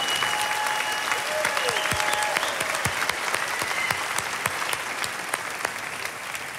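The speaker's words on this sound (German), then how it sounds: "Applaus für Daniele Ganser." A large conference audience applauds a guest speaker being welcomed to the stage, with broad sustained clapping and a few sharper individual claps standing out near the front.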